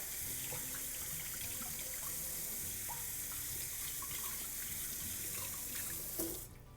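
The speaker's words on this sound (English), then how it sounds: "In the meantime, I'm going to do my parsley. Just give a nice little rinse." Fresh parsley is rinsed under a running kitchen tap, with a steady, loud rush of water splashing into the sink throughout, close by, until the flow cuts off at the end.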